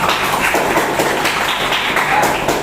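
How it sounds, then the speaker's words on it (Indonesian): Classroom applause from a group of students, a steady dense patter of clapping sustained throughout at moderate closeness with no voices over it. "Tepuk tangan untuk kita semua"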